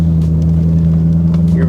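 A 1932 Ford 5-window coupe hot rod with a fiberglass body rounding a roundabout, its engine a loud, steady low rumble heard from inside the car, unbroken and close.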